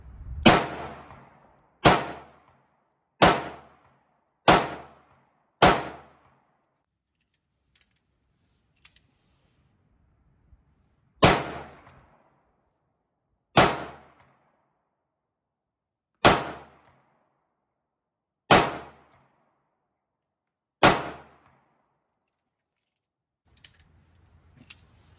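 A Taurus Model 85 snubnose revolver fires eleven sharp, loud reports at close range. The first five come in a quick string, then six more are spaced out at several-second intervals, with silence between.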